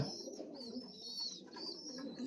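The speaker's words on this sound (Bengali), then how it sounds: "এই যে এদিকে আছে 2টা কবুতর" Pigeons in a loft give a low, continuous cooing that rises and falls in gentle swells, close and moderately quiet, with faint chirps above.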